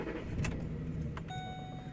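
A 2008 Ford Expedition XLT 4x4 is under way, with a low, steady cabin rumble and a brief jangle of keys during the two seconds.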